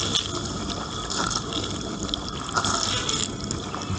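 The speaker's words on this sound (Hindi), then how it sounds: "पहला स्टेज पानी को अंदर पंप करके शुरू होता है" Water pumping into a transparent dishwasher at the start of its longest two-hour cycle, a steady rushing, trickling fill of about 3 litres, continuous and close with no talk.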